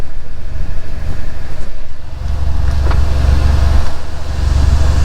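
A BMW F30 328i with a stage 2+ tune accelerates hard from a street-race launch against a Q50, a loud sustained engine roar heard from inside the car that holds steady across the run.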